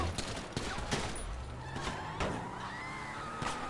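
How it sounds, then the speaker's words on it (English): Gunfire in a PS4 game as another player shoots, with sharp shots scattered across a steady background of game sound and no talk. "Now I'm getting shot at by another guy"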